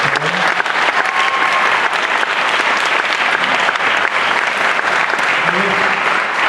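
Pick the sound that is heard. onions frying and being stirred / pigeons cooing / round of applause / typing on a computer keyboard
round of applause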